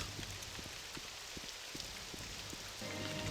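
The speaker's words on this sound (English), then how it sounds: "I always like rain in video games." Steady in-game rain in a video game patters on a surface with scattered drop hits, a soft constant wash; a low hum joins near the end.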